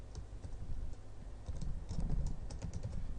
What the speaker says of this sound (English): So I'm typing slowly because my microphone's in the way